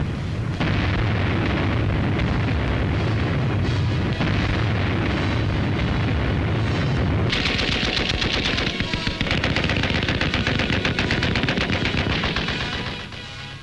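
Wartime bombardment during the battle of Shanghai on an old newsreel soundtrack, loud and dense with rolling explosions and rapid bursts of gunfire, a heavy continuous barrage that shifts to sharper crackling fire midway.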